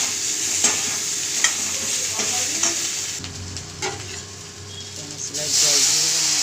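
Potatoes frying in a pan with turmeric and chili powder, a loud steady sizzle and hiss with a spatula scraping through now and then, close up and without talk.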